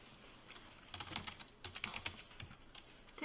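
Quiet, close-up typing on a computer keyboard while entering chart data into an Excel sheet, with an irregular patter of soft key clicks and no talking.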